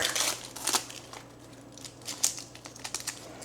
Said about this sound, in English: So I'm peeling the bulb of garlic.